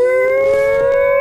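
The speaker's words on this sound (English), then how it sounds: "It's just like a siren alarm." A loud, steady wailing siren alarm holds a single sustained tone with strong harmonics, rising very slightly in pitch, sounding alone with no voices.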